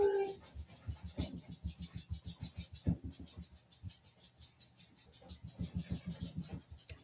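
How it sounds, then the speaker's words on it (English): A small, excitable dog pants rapidly and rhythmically while being scratched, with faint whimpers mixed into the quick close-up breaths; no one speaks. "The dog sounds like he's in a blender."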